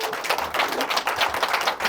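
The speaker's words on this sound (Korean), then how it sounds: "우리 떠나시는 분들 잘 다녀오시라고 박수 한번 부탁드릴게요" Audience clapping together at a health lecture event, a steady dense patter of many hands lasting throughout, fairly close and even, with no voices over it.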